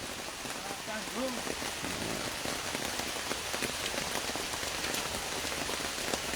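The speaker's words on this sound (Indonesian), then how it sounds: "tapi posisinya lagi hujan" Steady rain falls and patters on surfaces all around, a dense, even hiss that continues throughout, with a voice speaking faintly underneath.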